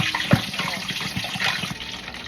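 Pork crispy pata deep frying in hot oil gives a dense, continuous sizzle scattered with sharp pops and crackles, one loud burst standing out early, heard close up.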